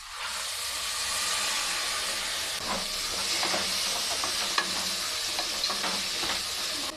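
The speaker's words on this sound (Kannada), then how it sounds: "ಈಗ ಇದಕ್ಕೆ ನಾವು ರಾತ್ರಿ ನೆನೆಸಿಟ್ಟುಕೊಂಡ 1 ಲೋಟ ಹೆಸರು ಕಾಳನ್ನು ಚೆನ್ನಾಗಿ ತೊಳೆದು ಈಗ ಇದಕ್ಕೆ ಹಾಕ್ಕೊಳ್ತಾ ಇದ್ದೀನಿ" Soaked, washed green gram is tipped into hot frying masala, giving a steady sizzle and hiss with scattered crackles and stirring scrapes throughout, fairly close.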